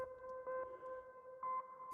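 A steady synthetic siren tone holds a constant pitch with faint harmonics, swelling slightly louder in two short bursts; quiet and electronic, with no voices.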